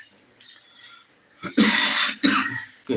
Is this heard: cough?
yes